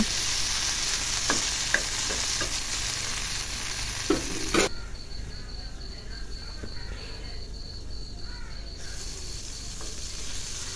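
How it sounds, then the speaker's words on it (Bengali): Okra (bhindi) frying in a pan, a dense continuous sizzle with scattered stirring clicks; the hiss drops away sharply midway, then fades back in. "দেখুন আমার ভিন্ডিগুলো প্রায় ভাজা হয়ে গেছে।"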